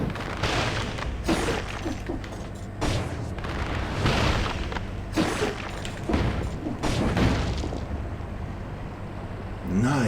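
Bombs exploding in the video game Dead Cells, a run of repeated booming bursts at irregular intervals over busy game sound, moderately loud.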